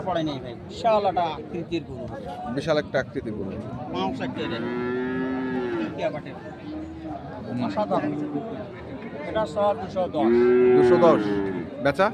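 Sahiwal cattle, including a calf, moo repeatedly at a cattle farm, several long drawn-out lows close by, with people chatting in the background throughout.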